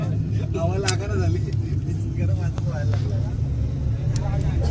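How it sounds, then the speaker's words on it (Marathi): A vehicle on the road leaving Shirdi on a Ram Navami pilgrimage return trip to Mumbai, its engine rumbling steadily in the cabin while voices chatter over the hum. "निघाली गाडी शिर्डीवरून"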